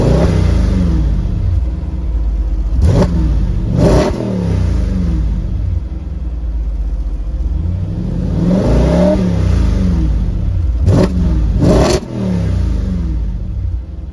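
The 4.2-liter V8 of a 2014 Audi RS5 coupe idles with a deep, steady rumble and is blipped twice in quick pairs of revs. Each rev climbs sharply and falls back, loud and close, with no talking.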